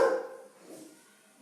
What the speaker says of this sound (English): Simba is yelling at the dogs downstairs.